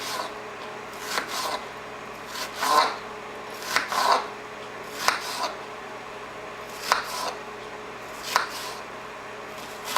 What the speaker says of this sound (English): I'm going to be slicing both in equal parts